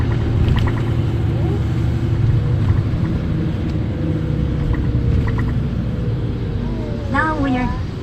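A tour bus drives through Tokyo with a steady, loud engine rumble and road noise from inside the cabin. Faint brief tones and chirps appear near the end.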